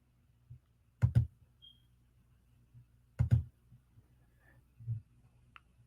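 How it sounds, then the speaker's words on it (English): Clicking of a keypad, heard as a few isolated, close clicks spaced apart over a quiet low hum, with no talking. "I hope y'all can't hear the clicking of this keypad"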